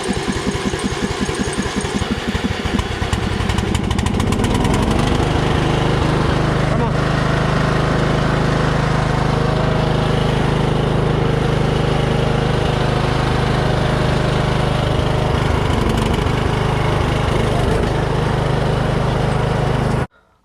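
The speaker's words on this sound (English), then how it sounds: "On this 2-minute tractor ride" A riding lawn tractor engine runs loud and steady up close on a test drive after a flat tire fix with green slime, a constant rumbling drone with a low hum that cuts off abruptly at the end.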